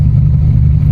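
Brief low exhaust drone from a car fitted with a Jack Spania high-flow adjustable cat, a steady rumbling engine note close by with no voices.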